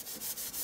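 A damp baby wipe rubbed over an art journal page to spread and blend colour, giving a steady papery swishing in a quick back-and-forth rhythm of about four strokes, close and alone.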